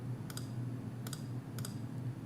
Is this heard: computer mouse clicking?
yes